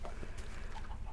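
Minecraft chickens on an automatic egg farm cluck softly in short, scattered bursts, faint under a low background hum, no speech.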